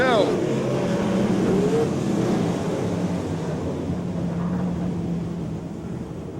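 Race cars roar around the track at Ocean Speedway, a continuous engine drone that sweeps past early and fades slightly, with a commentator talking over the action.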